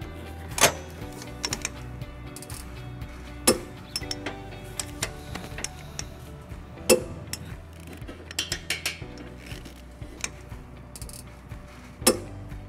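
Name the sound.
torque wrench tightening trailer hitch U-bolts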